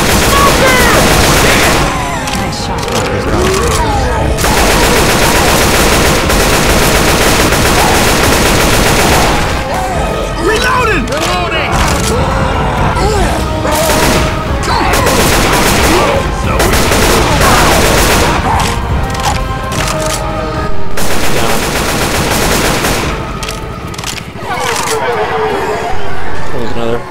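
Heavy gunfire in Left 4 Dead 2, dense continuous bursts of automatic shots and booms throughout, loud and close, with players talking underneath.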